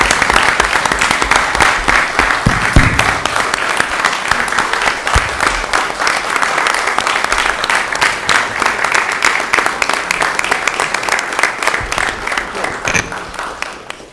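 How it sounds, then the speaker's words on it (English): A room full of people at a commission meeting applauds loudly and steadily for about fourteen seconds, a dense close patter of claps with no talking. "How about a great round of applause for these gentlemen?"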